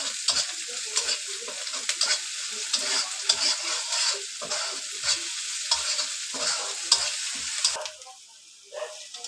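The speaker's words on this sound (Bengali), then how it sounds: "খুব করে এখন একটু করে ভাজবো, একটু লালচে করে ভাজবো।" Onions fry in hot oil for a fish do-peyaza, hissing and sizzling steadily up close while a spatula stirs them in repeated scraping strokes, quieting near the end.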